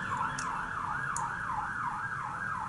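A passing emergency vehicle sounds its siren near a fire station, a rapid rhythmic yelp sweeping up and down over and over, steady and fairly loud with faint background noise.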